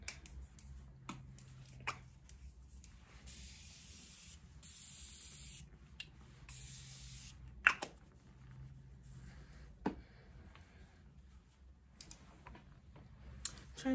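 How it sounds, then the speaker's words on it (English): Makeup setting spray hissing out in a few short, soft bursts at close range, with light rustling and small taps around them and no talking. "I'm going to set my makeup again"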